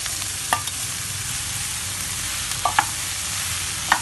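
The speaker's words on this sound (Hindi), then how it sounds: "ये आलू और गाजर जो उबाले थे उनको मैश कर लिया है अच्छे से और इसमें डाल देते हैं।" Mashed boiled potato and carrot go into a sizzling pav bhaji pan, a steady frying hiss broken by a few sharp stirring clacks, with no voices.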